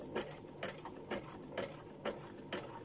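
A domestic sewing machine runs a zigzag stitch, giving a steady mechanical whir with a regular ticking pulse about twice a second, close and fairly quiet, with no voices.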